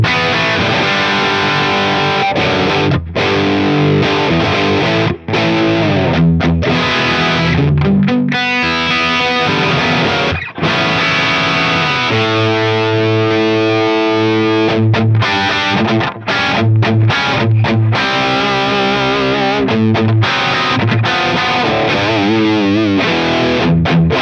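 Black Les Paul electric guitar played through an 808 overdrive pedal, loud and continuous with distorted chords and single-note lines and brief pauses between phrases, no talking.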